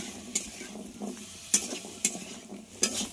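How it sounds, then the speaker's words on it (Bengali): Four medium potatoes cut into long strips fry with onions in a pan, stirred with sharp scraping clicks at irregular moments over a soft, steady sizzle, close and fairly quiet. "সেটাকে পেঁয়াজের সঙ্গে আলুটা"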